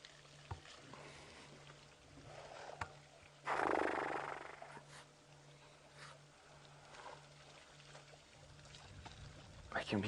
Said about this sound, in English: just hear the water as they draw it up into their trunk